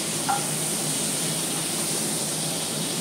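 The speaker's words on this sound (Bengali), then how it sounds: "এই যে দেখো মাছটা কেমন ভাজা হচ্ছে" Continuous hissing sizzle of fish frying in hot oil, steady and close, with no speech.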